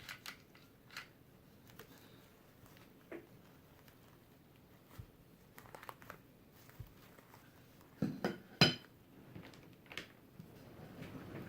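Scissors snip through Dollar Tree rope while a spring wreath is assembled, a few quiet, scattered cuts with soft handling rustles, then a sharper cluster of snips near the end in an otherwise hushed room.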